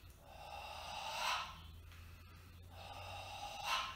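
A person takes breaths in and out during a seated posture exercise for opening the shoulders, two airy, close breathing cycles with audible rises in strength, without speech.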